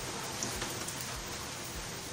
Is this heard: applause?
no